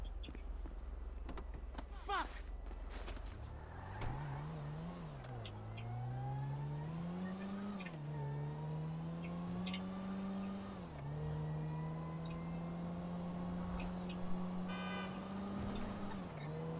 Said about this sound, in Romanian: trebuie să iau o mașină foarte rapidă